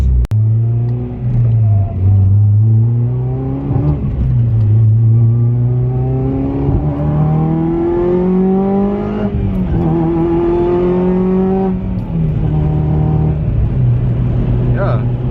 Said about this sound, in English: You definitely hear more like exhaust noise in the supercharger.